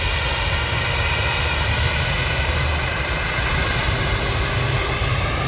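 Jet airliner on its takeoff roll at Manchester Airport, heard from a viewing park as a loud, continuous engine roar that stays steady and unbroken.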